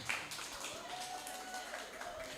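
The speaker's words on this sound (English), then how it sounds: "Oh yes, that hand clap worked then." An audience claps at an evening event in Uganda to welcome a guest onto the stage, a brief scattered round of handclaps, fairly faint and fading.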